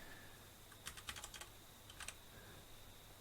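Quiet keyboard typing in two short bursts of rapid clicks, separated by a pause, over a faint steady hum.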